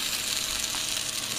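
Potatoes browning in a hot frying pan sprayed with low-calorie cooking spray, a steady close hiss of sizzling fat that runs evenly without a break.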